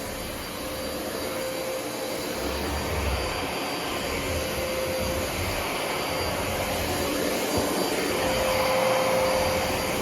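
A Miele upright vacuum cleaner runs steadily with a whiny brush roll motor, a sustained high-pitched whine riding over a loud, even motor roar, close up and with no talking.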